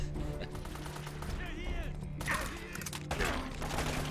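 Gunfire in Uncharted: Drake's Fortune, a shotgun in a drowned city, banging repeatedly amid layered game noise and echoing effects, with a voice reacting in between.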